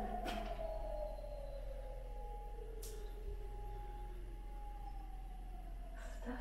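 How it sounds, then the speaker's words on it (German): A wailing siren sweeps slowly up and down in the distance near an abandoned army barracks, holding a long steady tone over a low hum, with a few brief knocks. "Auf einmal voll die Sirenen hier."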